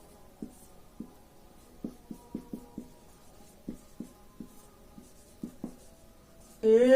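Pen strokes scratch and tap on paper in short irregular bursts while a maths problem is worked out, faint and close, before a voice begins speaking at the end.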